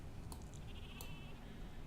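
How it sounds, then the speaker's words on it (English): Sheep in the game Civilization V bleat twice, short faint calls about a second apart over a steady background hiss, with no talk. "It's got some sheep over there."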